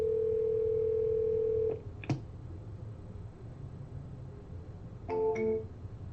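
A steady telephone dial tone hums loudly for almost two seconds, then cuts off with a click, followed by quiet line noise and a short burst of beeps near the end.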